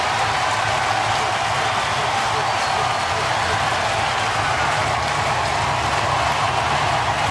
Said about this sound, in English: this crowd is going crazy here at Busch Stadium